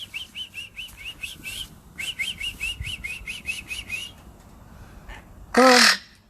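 Cockatoos give rapid series of short, repeated chirping calls in quick rhythmic bursts, then a single loud, harsh screech near the end.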